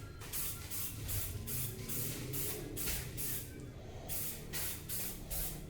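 Spray paint hisses onto a sanded off-road 15-inch wheel rim for a Saveiro in bursts of repeated spraying with short pauses, loud and close, no talking.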